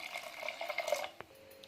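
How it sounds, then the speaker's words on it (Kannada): Water poured into a pressure cooker holding avarekalu (field bean) huli sambar, a steady close liquid trickle with small splashy bursts for under two seconds, fairly quiet, no voices. "ಇವಾಗ ಇದಕ್ಕೆ ಎಷ್ಟು ಬೇಕೋ ಅಷ್ಟನ್ನು ನೀರು ಹಾಕ್ಕೊಂಡು"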